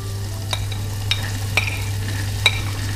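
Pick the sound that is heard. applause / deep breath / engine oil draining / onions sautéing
onions sautéing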